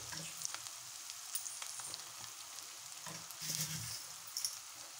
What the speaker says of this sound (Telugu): ఆయిల్ పైకి వచ్చిందండి. మన మసాలా గోల్డ్ కలర్లో ఫ్రై అయిపోయింది.